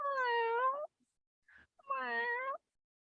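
A hungry cat meows twice, two clear, drawn-out nearby meows separated by a short pause with a faint soft sound between them.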